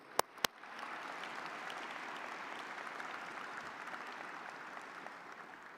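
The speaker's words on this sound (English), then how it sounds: "I think we all deserve a big round of applause." An award ceremony audience breaks into sustained applause after two sharp taps, the clapping swelling quickly and holding steady and dense from a sizable crowd in a hall.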